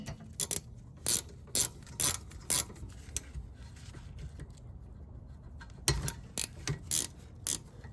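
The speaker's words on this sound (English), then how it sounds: "Just go ahead and loosen up this top one and then remove the bottom one completely." Ratchet clicking as it loosens 14 mm rear brake caliper bolts on a 2018-2024 Toyota Camry, close sharp bursts of pawl clicks in two groups separated by a quiet pause.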